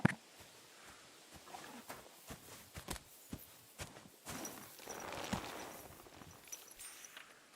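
Horse hooves clip-clopping at a walk, a series of sharp distinct hoof strikes in an irregular rhythm, fairly close, with a softer rustling patch midway.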